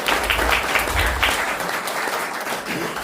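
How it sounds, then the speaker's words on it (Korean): Audience applause welcomes the chairman of a Korean rescue organization to the stage at an indoor event, a steady dense clapping from the crowd that holds at a fairly even level throughout. "박수로 맞아주십시오"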